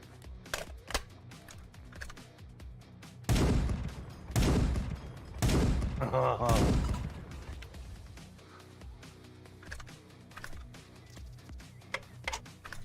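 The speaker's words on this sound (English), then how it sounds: "That's what 50 BMG sounds like" AK-50 rifle firing .50 BMG rounds in Escape From Tarkov, a handful of booming heavy single shots in a cluster, loud and close, amid lighter clicks and keyboard tapping.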